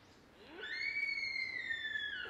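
A faint, drawn-out squeaky call from a deer, like a creaking door hinge, rises out of quiet outdoor background hiss and holds for about two seconds.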